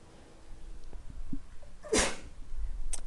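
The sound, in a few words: sneeze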